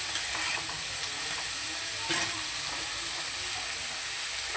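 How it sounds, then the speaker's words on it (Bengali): Cauliflower frying in a little oil in a pan, giving a steady, continuous sizzle and hiss with light stirring scrapes, close and even throughout. "ভাজলে ফুলকপিটা অল্প তেলেই ভাজা হয়ে যায়।"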